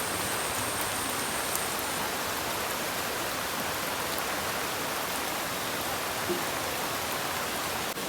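Heavy morning rain pours down in a dense, steady hiss that stays unbroken and loud throughout, with no voices.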